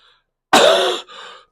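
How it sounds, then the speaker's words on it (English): A single harsh cough bursts out close by, followed by a shorter, softer rasp of throat clearing. "You have to forgive me for my coughing."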